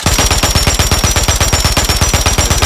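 A Pulemyot 762 light machine gun in Modern Warfare fires one long, sustained automatic burst of rapid, evenly spaced loud shots with no pause and no talking.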